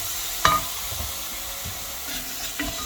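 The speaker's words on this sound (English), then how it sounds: "Next is we adding the tamarind extract." Tamarind extract is poured into sizzling Massaman curry paste with shallots for a beef curry, making a close, moderate sizzle with a sharp splash at the start and a few scraping stirs.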